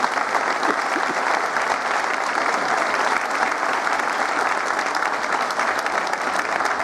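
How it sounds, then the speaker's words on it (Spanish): An audience applauds newly sworn-in municipal councillors in Zapala, Argentina, with a dense, steady wash of clapping that stays loud and even throughout. "Un fuerte aplauso, por favor, para los concejales."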